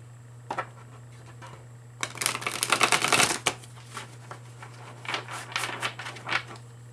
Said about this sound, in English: I'm going to do a bit of shuffling and intentionally cleansing the cards energetically